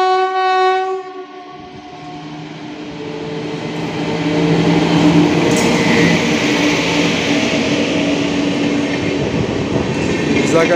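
The Visakha Express rolls through Brahmapur railway station, a long horn blast sounding first before the heavy rumble and clatter of coaches builds and stays loud and close.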